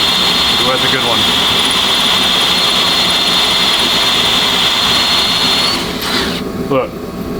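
Metal is drilled with a quarter-inch bit, a loud continuous high whine up close that holds steady, then tapers off near the end.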